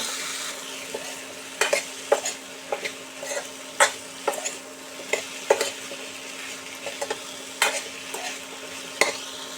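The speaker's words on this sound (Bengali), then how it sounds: "এবার 3টে ডুমো করে কাটা আলু দিয়ে দিলাম, দিয়ে একটু ভেজে নেব" Diced potatoes frying in a pan with tomato and turmeric give a soft, continuous sizzle broken by sharp, irregular clinks and scrapes of a spatula stirring against the pan, close up and with no talk.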